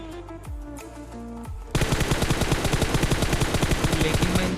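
Groza assault rifle firing in PUBG Mobile, a loud rapid full-auto burst of evenly spaced shots kicking in suddenly after quieter game sounds and continuing to the end.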